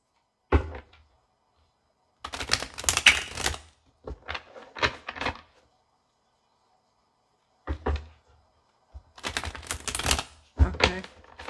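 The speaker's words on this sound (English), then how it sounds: "I'm just going to shuffle two more times." A deck of tarot cards is shuffled in several separate bursts of rapid riffling and slapping, close and fairly loud, with silent pauses between them.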